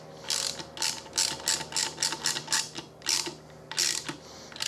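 A hand ratchet with a 13mm socket tightens a bolt while mounting a 5-inch 50W LED offroad light on a Jeep Wrangler, giving a steady series of loud, close ratcheting clicks in regular strokes.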